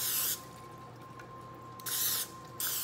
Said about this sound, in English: So I'm gonna spray this muffin pan.